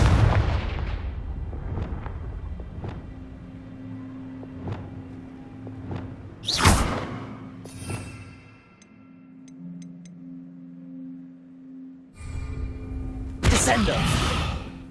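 A Confringo spell explodes in the Hogwarts Legacy video game, heavy booming blasts with rumbling decay amid game effects and a sustained tone, with a second loud burst near the end.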